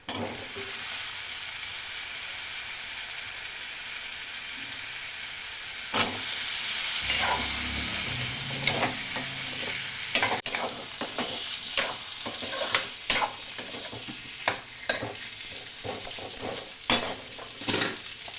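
Potatoes sauté in a little oil in a pan for a spicy brinjal-and-potato curry, giving a steady close sizzle broken by repeated scraping stirs and clinks of a spoon against the pan, with no talking.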